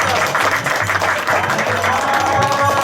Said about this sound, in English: How about one more round of applause for Ananta Gauranga Prabhu